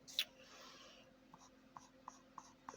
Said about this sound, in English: You can hear it, touching the paper, but we're just going to barely touch the paper.